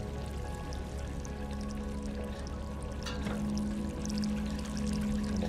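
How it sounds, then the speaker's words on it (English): Water pours and trickles steadily in the video game Stray, a continuous close splashing stream over a low hum with a few brighter drips, no voices. "I hear water dripping."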